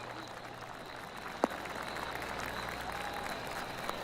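Polite golf applause from a small gallery in the PGA 2K23 video game, a soft, scattered patter of clapping at low volume with a single sharp click partway through.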